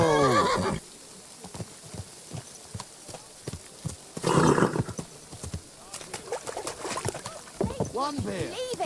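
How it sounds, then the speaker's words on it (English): A horse in the medieval video game Kingdom Come: Deliverance II whinnies loudly at the start and again midway, with scattered hoof clops and other game sounds in between while a voice speaks. "Easy, good horse."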